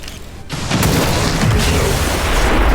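A rocket launcher shot in the XCOM video game bursts against an Andromedon's armor, a loud sudden boom followed by a sustained, rumbling roar of explosion and debris lasting a couple of seconds.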